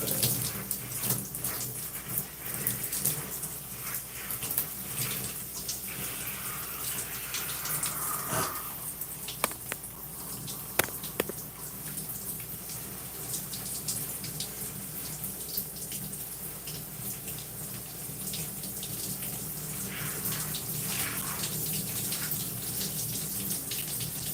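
Water running steadily from a tap while shampoo is rinsed out of gray natural curly hair, a continuous close splashing rush with small shifts as the hair moves under the stream.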